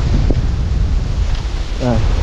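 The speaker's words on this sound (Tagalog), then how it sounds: "Lakas ng hangin, no?" Strong wind buffets an outdoor microphone in a home garden, a steady loud rumble filling the whole clip, with a brief voice fragment near the end.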